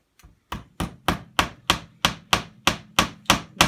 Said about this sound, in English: I'm hammering, nailing this in